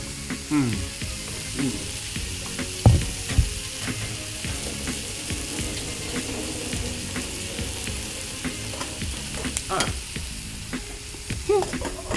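Very ripe plantain is stir-fried in a pan on a large burner, giving a continuous close sizzle broken by utensil scrapes and knocks against the pan, with no one talking.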